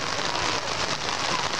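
Rain falling at night on the Fourth of July, a steady, dense hiss of drops spattering on surfaces, close and unbroken throughout.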